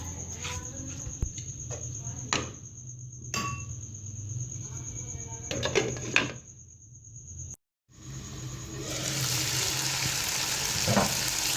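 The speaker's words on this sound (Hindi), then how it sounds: "दस मिनट के लिए मीडियम टू लो फ्लेम पे मैंने इसे अच्छे से फ्राई कर लिया है" Chicken pakora mixture sizzles in a pan over a medium-low flame, with intermittent sharp clinks and scrapes of stirring, a brief cut to silence, then louder steady frying noise.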